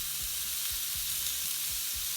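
Steak searing in a frying pan, a dense close sizzle running continuously with faint rhythmic low knocks beneath, no talking.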